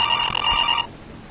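A desk telephone in a horror visual novel video game rings with a bright, steady electronic trill that stops abruptly partway through, leaving a quiet background hum.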